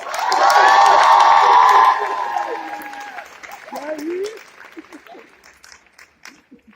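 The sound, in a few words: crowd applauding and cheering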